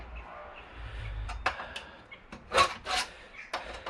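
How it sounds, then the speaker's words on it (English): Flat-bladed screwdrivers scrape and pry at the casing of a 2009 Mercedes-Benz W204 C200 car head unit, giving a few short, close scratching and clicking bursts over a quiet background. "I'm back with a couple of flat bladed screwdrivers, so it's just a matter of prising it open."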